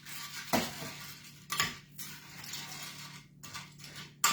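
A chicken pasta bake mixture stirred in a dish, with a spoon clinking and scraping against the bowl in a few distinct strokes between quieter mixing, close and alone.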